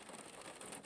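Rain falls in a soft, continuous patter and hiss, faint and even over a brief moment.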